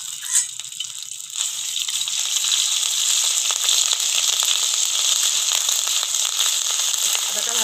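Whole cumin seeds and ginger paste hit hot oil with a sharp crackle, then settle into a steady, loud sizzle that holds to the end, close by with no talking.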